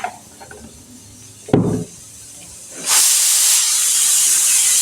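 Cooking oil in a hot pan while making pongal: a few faint clatters and a short thud, then a loud, steady sizzling hiss that starts abruptly and holds to the end.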